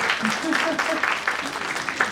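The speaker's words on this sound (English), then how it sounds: "I think we can give a round of applause to all of you." An audience at the MDLC 2023 conference applauds and cheers. Uneven bursts of clapping are mixed with voices talking over them.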